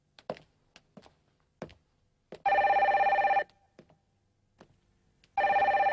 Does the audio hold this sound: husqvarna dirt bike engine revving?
no